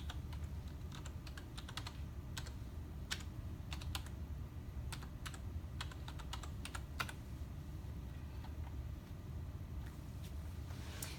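A username is typed on a computer keyboard as a long run of quiet, irregular key clicks over a low steady background hum.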